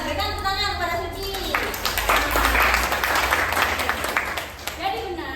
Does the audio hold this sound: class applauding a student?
yes